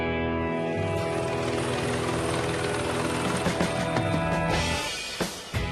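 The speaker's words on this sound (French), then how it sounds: "Les rotations d'hélicoptères s'enchaînent toutes les 5 minutes." A helicopter flying over Monaco during the Grand Prix, its loud, steady rotor thrum and turbine whine continuous and close, fading slightly near the end.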